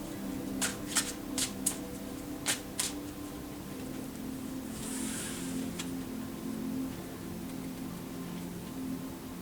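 Tarot cards are shuffled in quick crisp riffling bursts early on, then a softer brushing flutter, over a low steady background hum with no talking.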